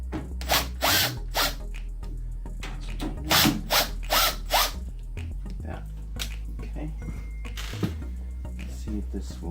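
A power driver backs screws out of an RV microwave range exhaust fan in short whirring, ratcheting bursts, a cluster early and another in the middle, with quieter handling noises and a steady low hum between them.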